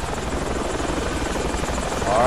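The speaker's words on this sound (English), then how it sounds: "Chopper's on its way." Helicopter in the Project Reality military game, a steady rotor drone filling the scene and growing louder toward the end as the chopper draws closer.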